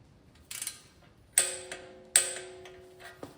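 A torque wrench tightens an oil pump bolt on a GMC Vortec engine. It gives a few crisp clicking ratchet snaps, the last two sharper with a brief metallic ring, spaced under a second apart and quiet.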